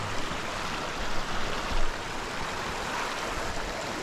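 A small mountain creek rushes steadily over rocks in a cutthroat trout stream, a constant broadband wash of flowing water, close and even, with no voices.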